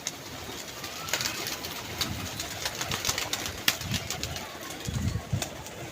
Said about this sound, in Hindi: ये कबूतर आया है।